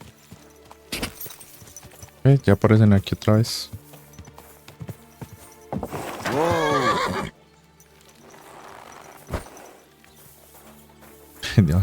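Horse neighs and whinnies loudly in Kingdom Come Deliverance 2, with hooves clip-clopping between the calls, while someone speaks over parts of it.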